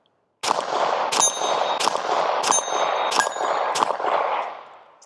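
Glock pistol fitted with a compensator barrel firing 147 grain rounds, heard as five sharp, loud shots at roughly even intervals under a continuous ringing clang, with the last reverberation fading out.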